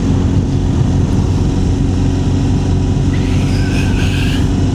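A BMW motorcycle engine drones steadily while riding, a loud, continuous low rumble mixed with wind rush. A faint higher tone rises near the end, and no one speaks.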